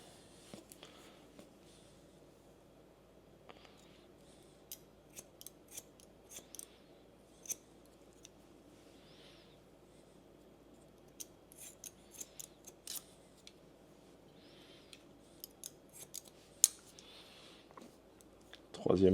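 Scissors snipping hair during a men's haircut, a series of quick, crisp, close metallic snips in irregular clusters over a quiet room, with someone speaking softly at intervals.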